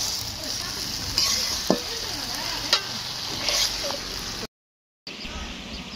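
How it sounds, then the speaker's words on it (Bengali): Meat spice paste sautéing and being stirred in a pan in a village kitchen, a steady close sizzle with a few sharp scrapes and clinks, cutting out briefly near the end before resuming. "এদিকে মাংসের মশলা কষানো হচ্ছে।"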